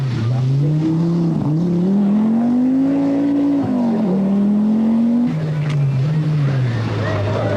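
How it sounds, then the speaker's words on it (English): Private Audi Quattro rally car on a muddy forest stage of the 1982 RAC Rally, its engine note rising and falling loudly and continuously as it ploughs through in four-wheel drive, close by. "Lassie Lampi in a private Quattro does some 4-wheel drive ploughing at Bramham"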